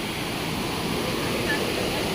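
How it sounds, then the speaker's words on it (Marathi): Muddy monsoon stream water rushing past crab traps, a steady broadband rush with no breaks, close and fairly loud throughout. "हे बघा पाणी"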